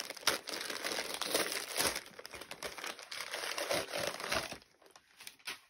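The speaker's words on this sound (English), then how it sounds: "And the unwrapping continues." Wrapping material being pulled off a newly bought mug, heard alone as close, continuous crinkling and rustling with scattered crisp tearing bursts, easing off toward the end.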